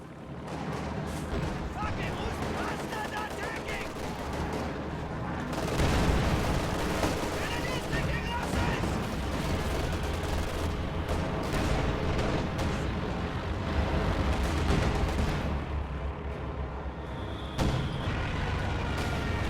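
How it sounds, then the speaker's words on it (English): Dive bomb attack hitting a base in a video game strategy match: a dense, continuous roar of explosions and gunfire rumbling throughout, with heavier bursts midway and near the end. "Dive bomb coming into the base."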